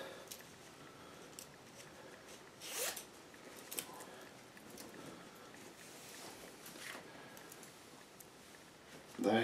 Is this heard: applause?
no